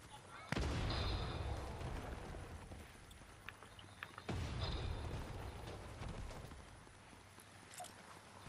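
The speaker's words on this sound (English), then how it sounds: "The shotgun, combat shotgun." Two heavy blasts from a combat shotgun in the video game Fortnite, the second about four seconds after the first, each booming loudly over a quiet background.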